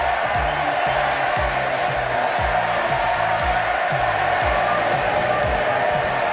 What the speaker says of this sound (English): that is the Sydney crowd singing